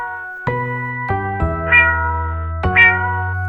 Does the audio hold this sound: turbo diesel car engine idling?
no